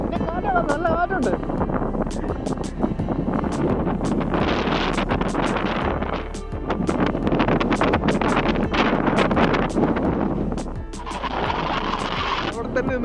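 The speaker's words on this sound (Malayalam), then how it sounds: "എന്നെ കാറ്റാണ്, നല്ല കാറ്റുണ്ട്" Strong wind sweeping a misty hilltop at Pullikkanam near Vagamon, loud gusts buffeting the microphone throughout while people talk over it.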